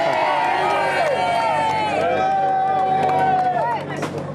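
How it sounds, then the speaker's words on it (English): A roadside crowd of fans at the final stage of the 2013 Tour de France in Paris cheers and shouts continuously for the winning rider, a loud dense roar of many voices with whistles, steady throughout before easing slightly at the end. "give them a cheer, everybody"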